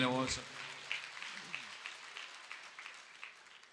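A sermon audience claps steadily, a sustained wash of many hands after a spoken line at the start, continuing evenly at moderate distance.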